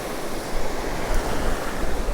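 Ocean waves slam into the posts of a pier at Cromer beach, a steady broadband wash of surf with a few heavier surges and some wind buffeting the microphone.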